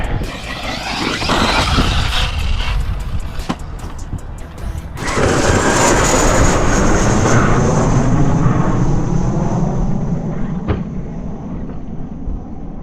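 A 100 mph RC speed buggy converted to a basher, running at full throttle: a loud, sustained high-pitched motor whine that rises and falls as it passes, close and steady, with no talking.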